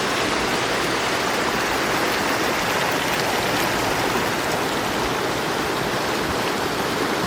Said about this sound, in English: So it's a nice little waterfall that comes down here and crosses it.